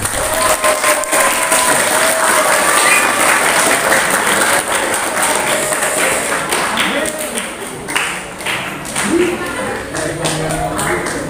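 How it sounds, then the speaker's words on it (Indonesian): An audience at a vocational high school event marking the Prophet's birthday gives a loud, sustained round of applause, with crowd noise and a few voices mixed into the clapping. "Masih ada yang mau tepuk tangan lagi?"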